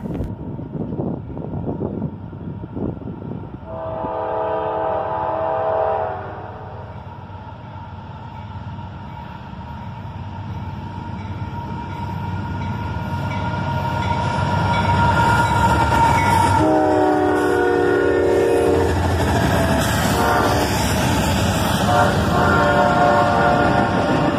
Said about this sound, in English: And some squeaky cars bring up the rear of the train.